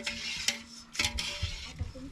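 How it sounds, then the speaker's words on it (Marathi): Rice being stirred in a pot of hot water, a spoon scraping and clinking against the metal pot in several separate strokes, close and fairly loud, with a soft bubbling undertone. "हे आपण हलवून घेऊ तांदूळ"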